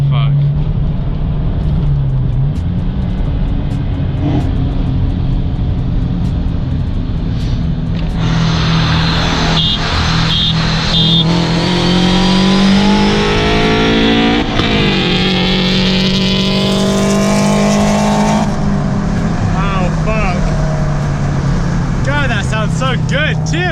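Loud, close engine drone from FR-S sports cars, one stock 170 HP and one boosted to 260 HP, rising in pitch as they accelerate through gears, with a high whine over the middle stretch and speech over it.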